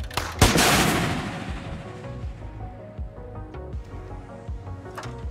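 Tank gun firing in the Gunner HEAT PC video game, one sharp, heavy blast followed by a long rumbling decay, then softer distant booms and engine rumble.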